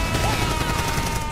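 Rapid gunfire crackles in a dense continuous burst while shooting a giant flesh-eating plant monster in a video game, loud and close for just over a second.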